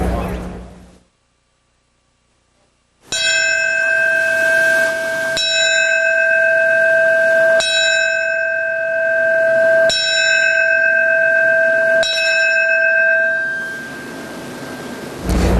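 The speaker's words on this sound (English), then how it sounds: "the traditional ringing of the New York City Fire Department bell" Ceremonial New York City Fire Department bell at Ground Zero, struck in slow, evenly spaced strokes about two seconds apart, each clear tone ringing on and overlapping the next, loud and resonant after a short silent gap.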